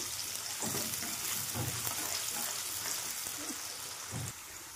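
Onions sizzle steadily in hot oil with cumin seeds, with a few soft stirring scrapes and clinks over the constant frying hiss.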